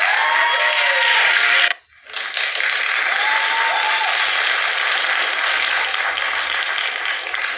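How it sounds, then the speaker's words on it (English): An audience gives a standing ovation for Miss Jackson's speech, a dense and steady roar of clapping that breaks off briefly near two seconds, then swells back and holds. "The round of applause is awesome here, by the way."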